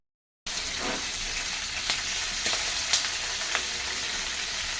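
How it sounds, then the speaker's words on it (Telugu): Fresh tamarind pods frying in oil for a garlic tamarind pickle, giving a steady close sizzle with a few sharp crackles and pops scattered through it. "చింతకాయలు నూనెలో ఇలా వేయించాలి"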